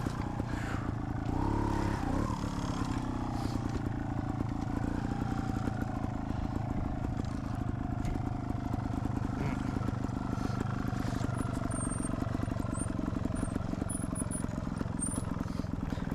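A trials motorcycle engine drones continuously and loudly up close at an observed trials competition, with a steady buzzing idle and occasional revving, rattling clatter throughout.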